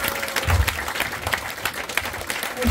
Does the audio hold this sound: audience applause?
yes